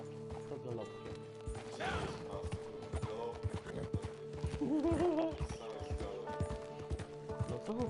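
Rhythmic hoof clip-clop of a galloping horse in Minecraft, steady through the clip, with a voice talking over it and a whinny-like sound midway.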